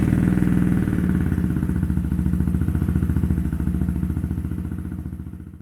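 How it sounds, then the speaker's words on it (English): Mutt 125 motorcycle engine running after an oil service, a close, steady idle with rapid even firing pulses and a mechanical clatter, gradually easing slightly in loudness. "Then fire the bike up and run it for a couple of minutes."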